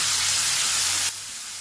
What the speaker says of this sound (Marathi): लसूण परतल्यावर त्यामध्ये हिरवं वाटण टाकूया, ते पण परतून घेऊ.